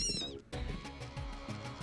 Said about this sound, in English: That wasn't a cat, was it?